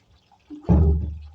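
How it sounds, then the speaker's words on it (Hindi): About two glasses of water are poured into a pot of cooking beef, starting with a brief splash and then becoming a loud, steady gushing that fades slightly toward the end. "पानी ऐड कर रही हूँ उसमें मैं गोश्त गलाने के लिए 2 गिलास।"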